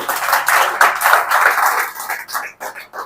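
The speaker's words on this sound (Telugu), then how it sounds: "చప్పట్లు కూడా దేవుని స్తుతిద్దాం." A congregation claps to praise God during a church service, a close, lively run of many hands that thins out and fades toward the end.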